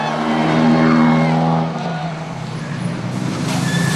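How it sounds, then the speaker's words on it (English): Rally cars on the road section back to service at the 2008 WRC Rally Japan, with engines droning close and loud, then fading into steady road noise. "The cars return from these early stages."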